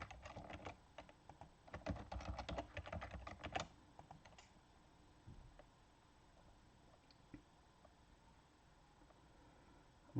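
Name and password typed on a computer keyboard while setting up an Amazon RDS SQL Server database: a quick run of close keystrokes for about four seconds, then sparse isolated clicks in a quiet room.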